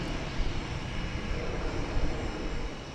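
Distant jet airliners at DFW Airport, including Frontier, United and Delta planes, producing a steady broad roar with no distinct events.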